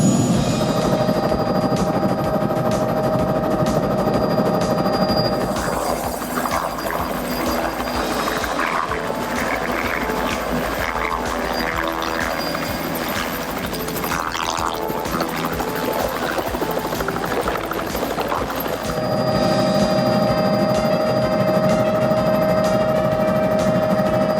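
An old Bell Jet Ranger helicopter with the fire department flying over northwest Los Angeles, heard from inside: a continuous loud rotor thump and turbine whine holding steady throughout, with no talk.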